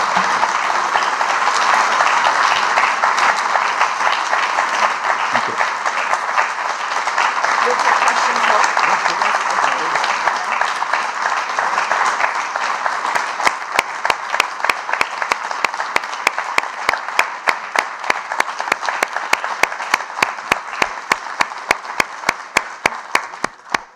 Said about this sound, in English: I've seldom heard such a lengthy round of applause